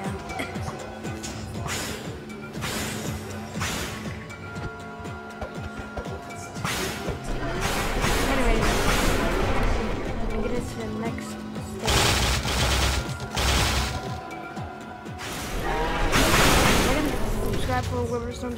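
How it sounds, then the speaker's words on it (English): Explosions from the Wither Storm mod in Minecraft Bedrock, a dense run of loud booming blasts and crackling bursts in repeated waves, with game music and a voice underneath. "Let's explode and boom."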